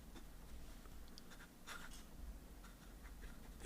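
A fountain pen with a medium nib writes on paper, giving a faint, steady scratchy nib-on-paper sound with a few brief strokes standing out, heard alone without talk.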